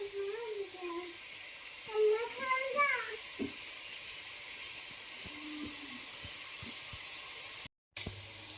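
Guar beans frying in oil in a home kitchen give a steady, soft sizzling hiss throughout, with light clinks and someone speaking over it.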